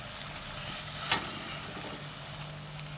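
Potato masala bondas frying in hot oil, giving a steady soft sizzle throughout with one brief sharper crackle burst partway in; no voices.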